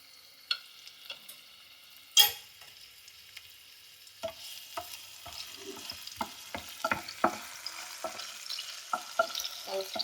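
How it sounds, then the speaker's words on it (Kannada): Mustard seeds, green chilies and curry leaves hit hot oil in a quiet kitchen. Scattered sharp pops and crackles follow, with one loud burst early on, and the spatters grow more frequent toward the end. "ಎಣ್ಣೆ ಕಾದಿದೆ ಸಾಸಿವೆ ಹಾಕೋಣ ಮೆಣಸಿನ್ಕಾಯಿ ಹಾಕ್ತಿದ್ದೀನಿ ಕರಿಬೇವಿನ ಸೊಪ್ಪು"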